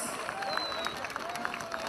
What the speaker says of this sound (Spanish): Esa palma, por favor. ¡Esas palmas!